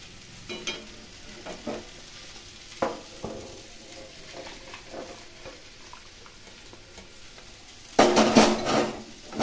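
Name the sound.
stirring fish curry with coriander leaves in pan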